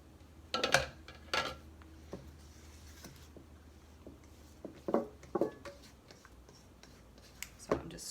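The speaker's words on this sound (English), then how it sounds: "Scraping everything down into the front of the bowl" A spatula scrapes pumpkin muffin batter down into the front of a bowl resting on a kitchen counter, giving a few short scraping and knocking sounds spread apart, with quiet pauses between them.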